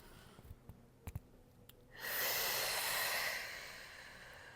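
Deep breathing during a Pilates reformer jump board core exercise: a few short sniffs and breaths at first, then one long, loud, close exhale that slowly fades.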